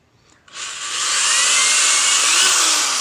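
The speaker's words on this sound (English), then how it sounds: "so I got my holes drilled on both sides" A power drill bores holes into a formicarium, starting with a brief tap, then a loud, close, steady high whine that holds unbroken for a couple of seconds.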